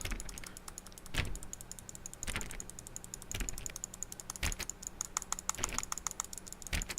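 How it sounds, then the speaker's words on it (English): Steady, fast computer mouse clicking during The Stanley Parable, close and crisp clicks running continuously with occasional louder taps and no talking. "I'm just gonna continue clicking,"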